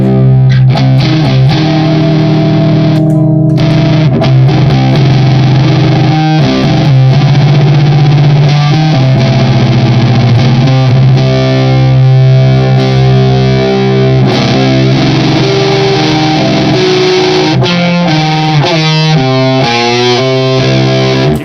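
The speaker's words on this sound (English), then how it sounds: "try that on the neck pickup and see if we get a different sound" Heavy, distorted electric guitar chugging on low strings through the neck pickup, loud and continuous with sustained crunchy tone and occasional slides, no voices.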